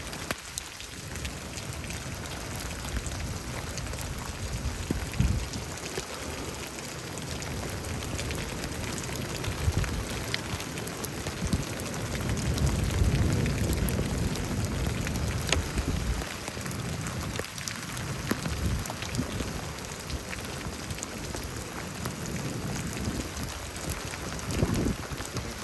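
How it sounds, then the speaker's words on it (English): Heavy rain pours steadily and loudly, a dense continuous hiss with gusty low rumbles swelling and easing throughout, recorded during a storm in Houston, Texas, with no voices. "Literally raining in."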